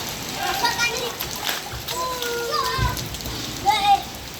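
Children splash and play outdoors in rain that has eased after a fairly heavy downpour, with steady rain patter, splashes and excited voices and chatter throughout and a louder burst of splashing near the end.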